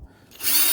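A corded power drill spins up on metal while building a roof ladder for a steep shed roof, starting quiet and then rising into a loud, steady high-pitched whir.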